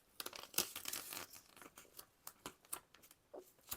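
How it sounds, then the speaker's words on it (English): Packaging tape peels and crackles as it is pulled and smoothed over a journal, a quiet, close, continuous tearing and crinkling with a few sharper snaps. "I just take a piece of sticky tape, like packaging tape, and I lay it"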